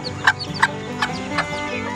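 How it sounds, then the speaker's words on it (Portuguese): A pair of Wyandotte Bantam chickens, a rooster and a hen, clucking nearby in a few short, evenly spaced calls over a steady farmyard background. "Aqui nós temos o nosso casalzinho de Wyandotte Bantam, ó, o macho tá aqui na frente e a fêmea tá ali atrás dele."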